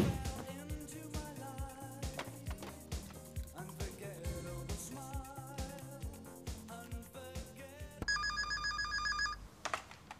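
A telephone rings with a bright, repeated electronic trill near the end, cutting across rhythmic music that plays through most of the stretch, in an indoor scene from a Greek television episode.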